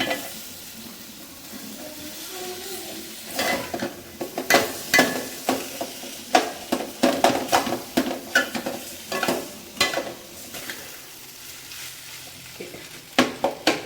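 Potatoes and chilli powder stirred in a pan, a spoon scraping and knocking against the metal in a close, uneven rhythm of repeated strokes over a soft background sizzle.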